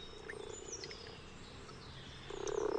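Common frogs croaking at a shallow pond edge in spawning season, a low steady chorus with a louder swell near the end, faint birdsong above.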